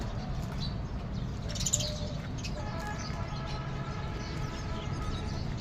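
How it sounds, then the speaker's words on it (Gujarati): Small birds, sparrows among them, chirp and tweet in scattered bursts around their nests near a shop, moderately close over a steady low background hum, with no talking. "અહીંયા ચકલીઓ આવી."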